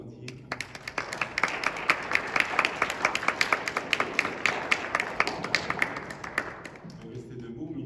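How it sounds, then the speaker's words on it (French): A congregation at a Mother's Day Mass at Sainte-Béatrice parish in Laval claps for the mothers, a loose, moderately distant round of individual claps that builds and then fades, with speech before and after. "On peut les applaudir."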